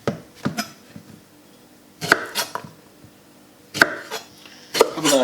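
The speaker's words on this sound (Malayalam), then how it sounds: "അതിനുശേഷം രണ്ട് വശവും ഇതുപോലെ കട്ട് ചെയ്ത് കളയുക." Knife cutting through both ends of a ripe Robusta banana on a board, giving three close, sharp clusters of chopping taps, each a quick double or triple knock with short quiet gaps between them.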